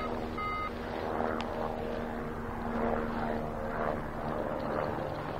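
A helicopter's low engine drone with a rhythmic chopping throb holds steady overhead in the Dolomites, moderately loud and continuous, with no voices.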